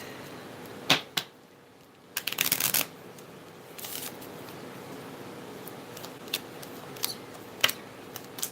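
A deck of playing cards is shuffled in short, sharp riffling bursts with pauses between, then a louder flurry and a few scattered snaps as a card flips out, close and clear with no talking.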